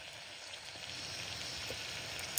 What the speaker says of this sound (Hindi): सब्जियों का छौंका लगा दिया